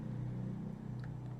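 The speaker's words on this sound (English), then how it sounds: "It's quite noisy for a Sunday morning, excuse the traffic." Steady low rumble of street traffic in Bangkok on a Sunday morning, a continuous engine drone with faint higher sounds on top, heard from indoors without talking.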